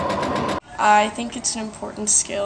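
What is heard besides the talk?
sewing machine running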